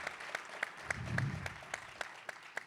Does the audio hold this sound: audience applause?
yes